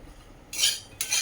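Two quick, bright scraping strokes of a utensil stirring ingredients frying in a pan over a medium gas flame, close and brisk, separated by a short pause with a faint sizzle beneath.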